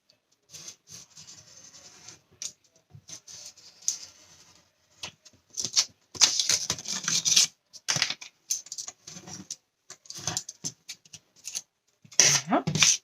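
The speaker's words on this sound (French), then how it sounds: "On va pouvoir venir couper sur les côtés." Scissors snipping along the sides of a paper Advent calendar craft, with intermittent soft rustling cuts and paper handling that come in short bursts, close and fairly quiet, busier toward the end.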